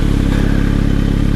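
A 2022 Kawasaki Z900 motorcycle engine runs steadily with a loud, close, throbbing mid-pitched drone and a faint clattery edge, no voices over it.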